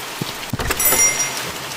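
A steady wash of rain falls in The Mortuary Assistant video game, with a couple of dull knocks early and the downpour swelling slightly partway through.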